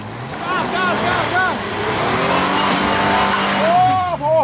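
An off-road car revs and accelerates hard during off-road training, engine pitch sweeping up repeatedly as gears climb, loud and close, with people shouting over it.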